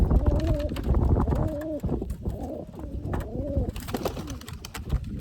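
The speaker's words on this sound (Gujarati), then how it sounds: "આ રહ્યા આપણા કબૂતર" Pigeons coo close by in repeated, rolling calls, several overlapping phrases one after another against a steady background.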